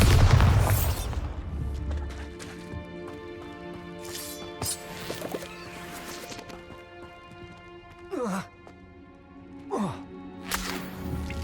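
A Bombarda blasting spell from Hogwarts Legacy goes off in one loud burst at the start, followed by fading rumble, quieter whooshing spell effects and sustained tonal music.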